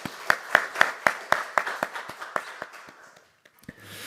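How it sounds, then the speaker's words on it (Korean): A church congregation claps during a Sunday worship service, giving a run of sharp, evenly spaced claps over about three seconds that fade out, followed by a few scattered taps. "찬양 받으시기 합당하신 우리 하나님께 감사와 영광의 박수 올리겠습니다."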